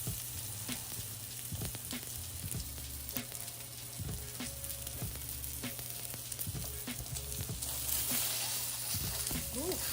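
Food fries in butter and oil in a hot skillet, a steady crackling sizzle heard close up with occasional scraping and clinks of a utensil, under faint talk.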